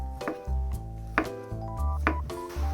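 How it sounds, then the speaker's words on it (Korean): A knife slices konjac on a cutting board while preparing a Korean soup: three spaced, soft thuds of the blade meeting the board, quiet under background music. "곤약은 아까 무처럼 같은 두께 모양으로 썰어 주시면 됩니다"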